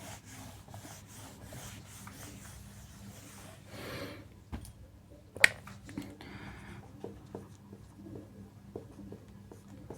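A classroom board being wiped clean with a duster, heard as steady rhythmic rubbing strokes, close and moderately quiet, with a sharp knock midway and lighter taps afterward.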